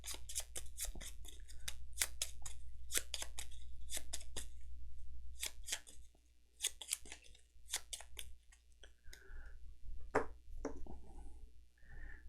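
Cards from the Unsettled board game are shuffled nearby, giving bursts of crisp riffling clicks and snaps in uneven runs, with quieter rustles and pauses between them and a faint low hum underneath.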